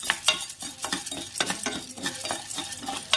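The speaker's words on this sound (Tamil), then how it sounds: "கடலைப்பருப்பு ஓரளவுக்கு வறுபட்ட உடனே உளுந்த பருப்பு போட்டு" Chana dal and urad dal stirred and dry-roasting in a pan over a slow flame, with steady scraping strokes and a light sizzle close by, for Chidambaram-style brinjal gothsu.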